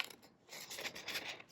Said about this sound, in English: So when I'm cutting, I like to hold my scissors straight, and then I'm twisting the paper.